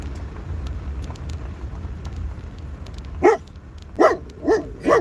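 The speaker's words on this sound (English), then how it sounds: "Stop barking at people." After a stretch of low background rumble, a dog barks four times near the end, loud and close, in quick irregular succession.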